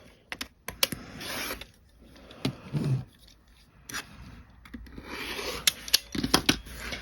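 Scissors cutting quilt fabric pieces for a card trick quilt block, with scattered crisp snips and soft rustling of cloth, faint and close, alone without voices.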